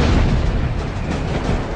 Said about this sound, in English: Vic's first missile detonated by the tail.